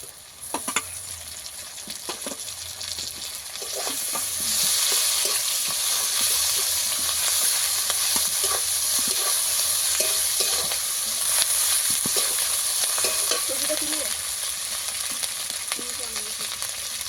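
Chopped tomatoes and ginger paste frying in a pan with onions, a constant loud sizzle that swells after a few seconds, with intermittent stirring clinks and scrapes.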